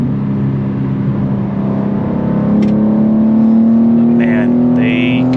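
Steady engine drone of a BMW G87 M2 while driving, with a sustained low tone that slowly rises in pitch as the car pulls, continuous under someone talking over it.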